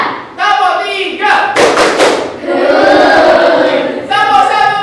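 A classroom of children plays a counting clap game: a short burst of sharp, loud group claps lands in the middle, surrounded by chanting and calling voices.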